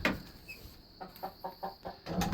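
Rhode Island Red chickens cluck close by in and around a backyard coop, a string of short soft clucks repeating in a loose rhythm over low background noise.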